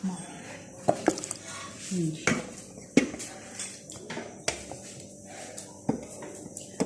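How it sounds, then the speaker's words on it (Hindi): Chicken kofta curry is dished out into a serving dish with irregular clinks and scrapes of utensils against cookware, moderately loud and close, with soft kitchen background noise. "तो ये मैं इसको निकाल कर और इसको डिश आउट करती हूँ"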